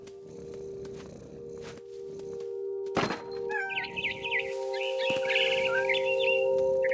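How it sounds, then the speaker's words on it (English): A barn swallow chirps near its nest in the What Remains of Edith Finch video game, giving a busy run of high twittering calls after a sharp thump, over steady game music. "Then I heard chirping outside my window. It was a barn swallow going back to her nest."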